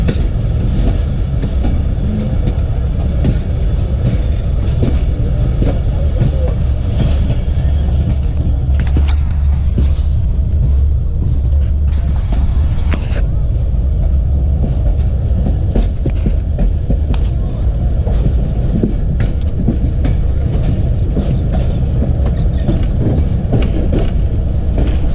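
Steady rumbling ride aboard the Jaffar Express train from Rawalpindi to Quetta, with loud continuous low-frequency track rumble, rhythmic throbbing of wheels on rails and occasional clatter throughout.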